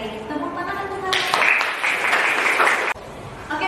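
Classroom of students applauding classmates during an accounting teaching session in Indonesia, a short burst of clapping that rises out of a voice, holds for under two seconds and stops abruptly, with talking underneath.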